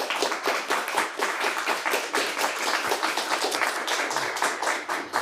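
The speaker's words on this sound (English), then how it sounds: "Let's give them all a round of applause." A studio audience at a high school quiz bowl game claps for the players, a dense rapid patter of many hands that stays steady and fairly close throughout, with no voices.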